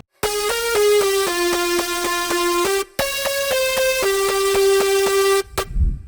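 Bright, buzzy layered drum and bass synth leads in FL Studio play a stepped melody of sustained notes, loud and steady, ending with a short low rumble.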